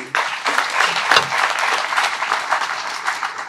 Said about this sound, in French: Applaudissons encore plus fort, ne soyons pas avares.